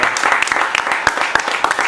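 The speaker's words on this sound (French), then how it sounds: "vraiment, applaudissez très fort" A crowd in a room at a comedy show breaks into dense, lively applause, steady and fairly loud, with a few sharper individual claps standing out near the listener.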